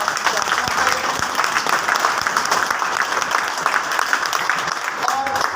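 A crowd at a ceremony gives sustained, dense applause from start to finish, with many hands clapping and a voice heard over the clapping.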